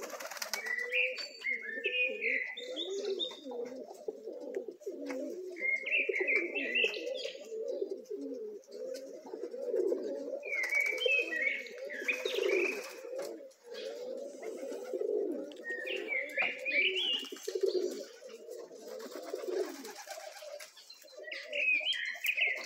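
Pigeons coo in a low, bubbling, continuous murmur close by, with repeated short bursts of higher chirping from other birds breaking in every few seconds and occasional wing flaps.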